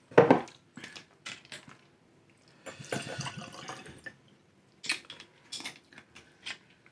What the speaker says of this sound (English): Got to pour more in.